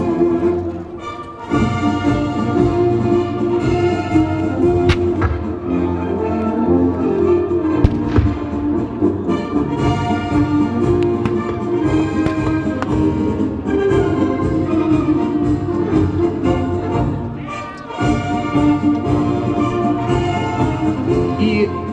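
Borodino battle reenactment of 2010, with dragoons and French cavalry fighting for an artillery battery: a dense, continuous roar of massed musket fire and cannon shots with crowd noise, loud throughout, with no clear talk.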